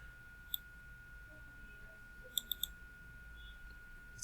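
A computer mouse clicks once, then three quick clicks in a row, small and near against a quiet hum of a running machine, followed by a brighter blip at the end.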